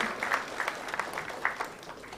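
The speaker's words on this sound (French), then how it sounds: "Sous vos applaudissements, s'il vous plaît." Light, scattered applause from an audience welcoming a speaker at a 2014 evening event in Senegal, fairly faint with uneven individual claps.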